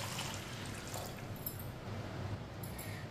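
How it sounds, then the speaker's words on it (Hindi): Water from two glasses is poured into a kadhai holding washed chana dal, giving a soft, steady splashing and trickling that stays faint and continuous for about three seconds. "दो गिलास पानी डाल लेंगे।"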